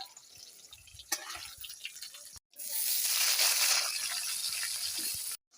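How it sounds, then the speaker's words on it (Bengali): Katla fish pieces coated in salt and turmeric hit hot mustard oil, a quiet spitting giving way to a loud, broad, steady sizzle that cuts off abruptly at the end. "তেল নুন সর্ষের তেল নুন হলুদ মাখিয়ে রেখেছি এবারে গরম তেলে তুলছি"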